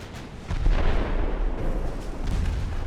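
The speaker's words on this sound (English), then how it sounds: "And we do score a torpedo hit" In the naval warship game Ultimate Admiral Dreadnoughts, a torpedo hit sets off a heavy low explosion that swells after a short lead-in, followed by rumbling booms and blasts with no talk.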